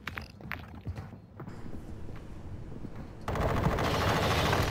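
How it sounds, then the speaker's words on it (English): Rapid gunfire from a shooter video game, a burst of shots off to one side amid game ambience, growing denser and louder in the final second and a half with no talk. "To my left, I hear shots."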